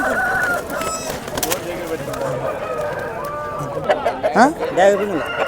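Chickens at a weekly village poultry market, with a rooster crowing and hens clucking among overlapping chatter and bargaining voices of the crowd.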